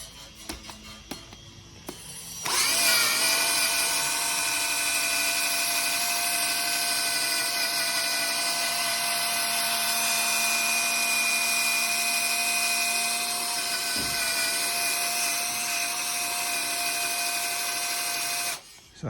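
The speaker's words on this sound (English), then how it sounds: "So that's had a good old buff with the thing on the drill" A power drill fitted with a buffing pad polishes a Toyota WiLL Vi headlight, spinning up after a few clicks into a loud steady whine that runs nearly twenty seconds before cutting off.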